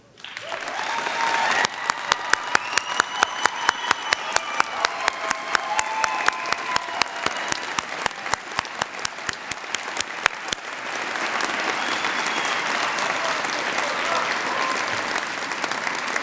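Audience applause at a 2016 graduation ceremony for the parents, starting with a few strong distinct claps that thicken into sustained, dense clapping close by, with no talk over it.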